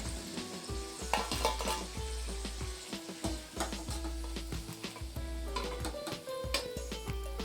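Karigadabu, sweet stuffed dumplings, fry in hot oil over a medium flame with a continuous bubbling sizzle. Repeated scraping and knocking of a utensil against the pan breaks through it in a loose rhythm, up close.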